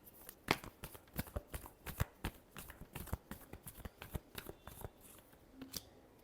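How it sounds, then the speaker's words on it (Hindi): Tarot cards are shuffled in a soft, close series of irregular flicks and riffles lasting several seconds, with no voices. "Last shuffle."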